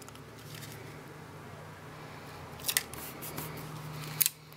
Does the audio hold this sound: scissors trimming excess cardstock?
yes